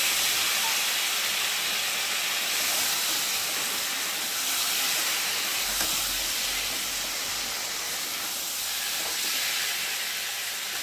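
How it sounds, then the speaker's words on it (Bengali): Boiled potatoes and taro sauté in a pan, giving a continuous hissing sizzle, steady and fairly loud throughout, with no talking. "আর একটা সিদ্ধ করে রাখা আলু আর গাঁটি কচু দিয়ে একটু ভালো করে কষিয়ে দিই।"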